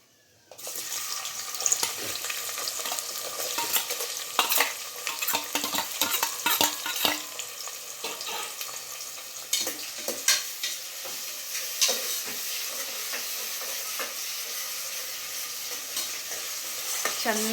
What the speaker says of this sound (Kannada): ಚೆನ್ನಾಗಿ ಫ್ರೈ ಮಾಡ್ಕೊಂಬಿಡೋಣ ಎಣ್ಣೆಯಲ್ಲಿ ಈರುಳ್ಳಿನ.